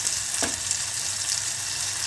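Ground mango pickle chutney hits hot tempering oil, giving a steady, bright, crackling sizzle that runs evenly throughout at moderate volume.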